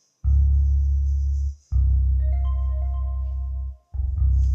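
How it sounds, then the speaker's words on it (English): A soft mallet-style pluck from the Xenology synth plugin plays a few bright melodic notes over a heavy, sustained bass pattern in a beat, with the bass dropping out briefly twice. "Then I use Xenology again and use this mallet sound."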